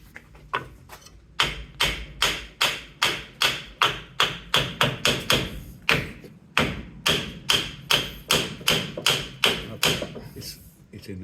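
Repeated heavy knocks strike a part on a Land Rover Defender 110, about two dozen loud metallic thuds in a fairly steady rhythm, close by, with a brief pause partway through.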